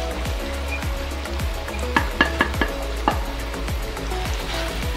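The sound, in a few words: stirring spices into melted fat in a pan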